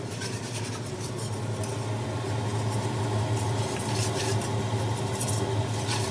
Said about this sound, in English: keep moving that whisk so you don't get lumps